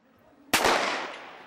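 A single sharp starting pistol crack opens a para athletics race on a track, a sudden loud report followed by a decaying echo tail.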